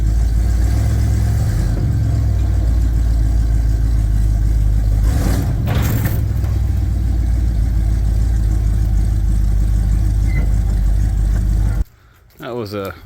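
A Chevrolet Blazer engine runs steadily with a deep, continuous rumble while the truck is moved off a trailer, with a few brief louder bursts before the sound cuts off abruptly near the end.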